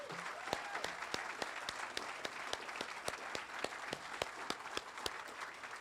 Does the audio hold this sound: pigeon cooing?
no